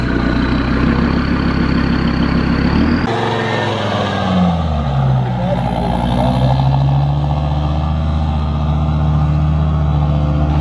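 An off-road vehicle engine labouring through a forest during a trophy run, a loud continuous rumble that shifts partway through into rising and falling strained revving, with voices talking over it.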